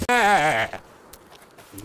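A single short sheep bleat from the video game Jurassic World Evolution 2, loud and close at the start, then fading into quiet game ambience.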